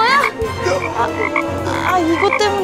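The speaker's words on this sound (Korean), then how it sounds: "뭐야? 개구리?" A frog croaks loudly and close by in repeated, throaty calls that fill the whole stretch without pause.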